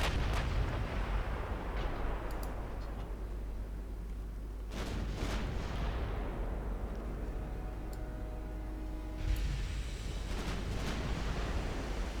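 Heavy naval guns boom in Ultimate Admiral Dreadnoughts during a night battle with a 1910 German fleet, a few deep blasts rolling out over a steady wash of sea and ambient noise, fairly distant and subdued.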